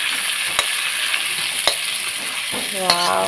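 Finished chapila fish chutney, cooked with vegetables and chopped leaves, is poured out of a hot pan. It sizzles steadily, broken by a few sharp scraping knocks of a utensil against the pan, with no one talking.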